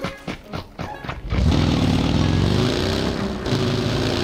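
A motorcycle engine in PUBG roars up suddenly after a few brief knocks, revving loudly with a rising pitch and holding at high volume.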